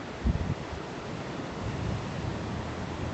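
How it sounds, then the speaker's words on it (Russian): Ocean surf washing onto a beach shore on a hot day in Australia, a broad steady hiss of waves with a short burst of wind buffeting on the microphone early on, no speech. "Это океан, да."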